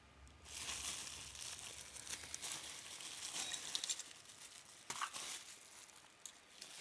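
Small bubble wrap packet being opened and handled, a run of soft crinkling, crackling plastic rustles close up with a few sharper snaps, no talking.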